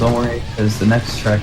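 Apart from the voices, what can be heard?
None of the usual background noises is heard.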